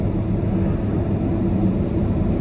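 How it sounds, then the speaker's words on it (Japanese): Inside a Boeing 767 cabin just after landing at Itami airport, a low, steady engine and airflow drone hums evenly with no other distinct sounds. "国際空港伊丹に着陸いたしました。"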